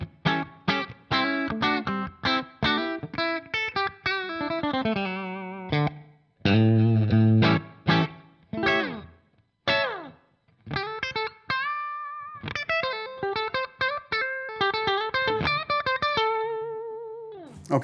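Electric guitar on a split-coil bridge pickup played through a Revv G20 amp, distorted with chorus-like shimmer, in quick chords and picked single-note runs with short pauses, loud and alone.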